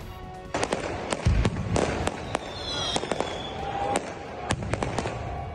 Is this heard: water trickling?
no